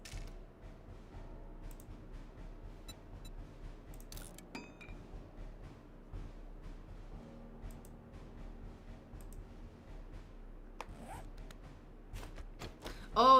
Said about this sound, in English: Oh, that's my zipper zipping.